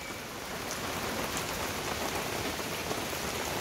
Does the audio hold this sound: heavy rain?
yes